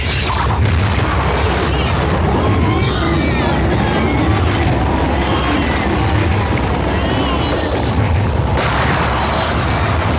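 A landmine blast gives a heavy, dense booming roar that fills the whole stretch, loud and continuous with rumbling debris-like texture, as voices speak faintly beneath it.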